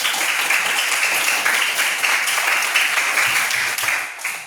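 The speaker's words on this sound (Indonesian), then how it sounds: "Tepuk tangan untuk kelompok 1." A classroom group of students claps for a student presentation group, a steady dense patter of applause lasting several seconds before tapering off near the end.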